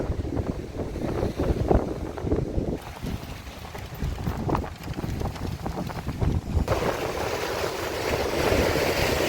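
Storm wind buffeting the microphone and rough surf at Arcadia beach in Odesa, gusty low roaring with bursts of crashing water, steady and fairly loud, no talk.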